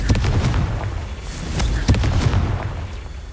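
Confringo blasting spell explosions in the wizarding game Hogwarts Legacy, a dense series of booming impacts and crackling bursts over a constant rumbling battle backdrop.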